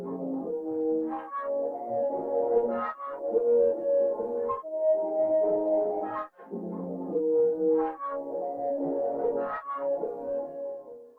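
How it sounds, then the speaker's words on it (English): A pad-like synth sample, processed with compression, chorus and EQ and built from an upright piano sound, plays sustained, warm chords that swell and shift in slow phrases, heard alone and fairly loud for about eleven seconds. "just to make it also sound like a pad"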